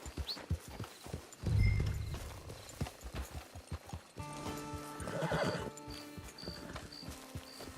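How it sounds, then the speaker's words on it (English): Horse hooves clip-clop in a steady rhythm while a horse neighs and whinnies loudly in Red Dead Online, with game ambience and a faint musical tone behind. "Get your horse."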